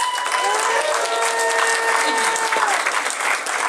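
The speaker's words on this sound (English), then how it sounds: "A big round of applause for Telephone" A convention audience at a furry convention's opening ceremony applauds a guest, with dense, steady clapping and crowd noise that fills the whole stretch at close range, while faint sustained tones run underneath.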